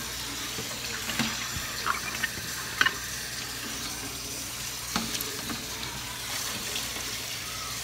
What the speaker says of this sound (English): rinsing out the pan that we had our fodder in